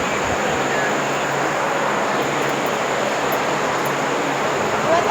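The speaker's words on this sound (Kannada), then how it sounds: "ನೋಡ್ರಿ ನಮ್ಮ ಟ್ರೈನ್ ಬಂತು." The Chandigarh–Karnataka Sampark Kranti Express draws into a station, a continuous loud broadband roar of the approaching train that stays steady and near, with faint voices in the background.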